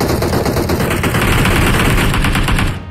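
Loud, continuous automatic gunfire in PUBG Mobile, a steady rapid stream of shots filling the whole moment with no pause.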